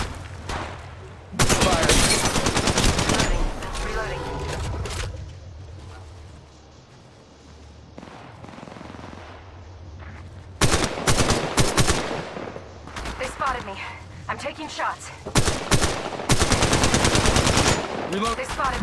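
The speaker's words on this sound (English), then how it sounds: "Shots fired, and they're hitting me." Gunfire in the mobile shooter Apex Legends Mobile: loud, close bursts of rapid automatic fire broken by short lulls, then several more heavy volleys.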